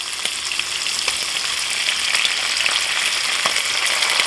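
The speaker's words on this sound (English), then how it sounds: "Now that we're halfway done with cooking the shrimp" Shrimp with taco seasoning frying steadily in a pan, giving a loud, continuous crackling sizzle with small pops, close by and with no other sounds.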